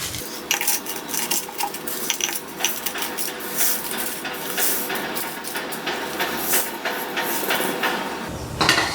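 A small mixer grinder jar grinds roasted whole spices for jackfruit pickle, making a continuous loud rattling clatter of hard seeds against the metal jar over a motor whir, with no talking.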